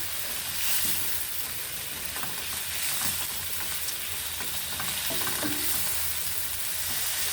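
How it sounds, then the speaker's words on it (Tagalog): Fermented shrimp paste goes into a pan of pakbet vegetables, giving a steady sizzle and frying hiss with faint stirring scrapes throughout, loud and close with no talking. "Add na natin ang ating alamang."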